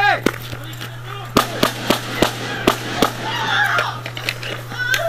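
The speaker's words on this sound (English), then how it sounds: "Shots fired!" Gunshots during a sheriff's officer-involved shooting in San Diego, a rapid volley of sharp cracks fired one after another, some outdoors with a steady electrical hum underneath and shouting voices nearby.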